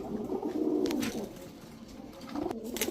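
Rajshahi Giribaz pigeons coo in a dealer's loft: a close, soft, rolling series of throaty coos, pausing briefly mid-way before the cooing resumes.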